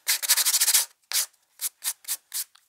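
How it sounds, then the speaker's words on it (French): A nail file sands a rubber stamp in close, scratchy strokes: a quick run of back-and-forth rubs, then four or five separate slower strokes with short pauses between. "Alors, soit vous avez du papier de verre, sinon bêtement une lime à ongles."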